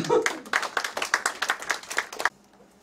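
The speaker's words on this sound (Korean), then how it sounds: "박수 한번 쳐주시면 안 될까요?" A small audience at a municipal policy briefing claps in a short, uneven burst of distinct, fairly close hand claps lasting about two seconds before stopping abruptly into near silence.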